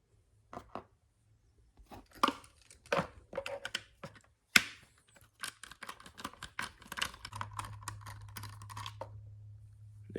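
Small screws being removed from the gear cover of a Traxxas X-Maxx RC truck with a hand tool: a series of sharp clicks and taps at close range, irregular at first, then faster and more frequent, with a faint hum at times.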